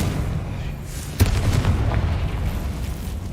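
A Confringo spell explodes in the Hogwarts Legacy video game, a single sharp boom that rises suddenly over a low game rumble and then trails off into a muffled rolling tail.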